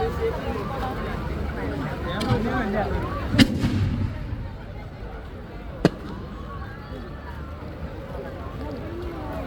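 Festival fireworks, including umbrella-style aerial shells and dynamite, go off at a temple utsavam with loud sharp bangs about every couple of seconds amid a steady crowd rumble and chatter.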